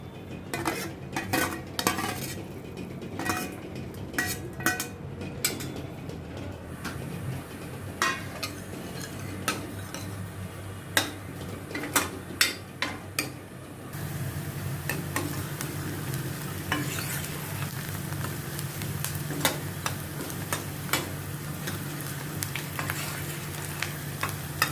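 Chopped onions fry in a pan while being browned toward golden for an egg curry, a steady sizzle broken by repeated clinks and scrapes of a stirring spoon, the frying growing denser and louder about halfway through.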